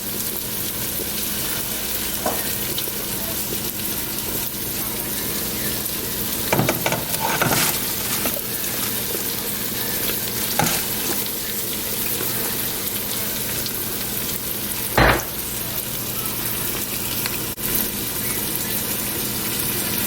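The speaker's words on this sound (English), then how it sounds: "And here's the collard green stock. I'm about to add the greens." Steady sizzling and bubbling of simmering collard green stock as greens go in, a constant wash of noise with a few sharper clicks and splashes, close and moderately loud, no talking.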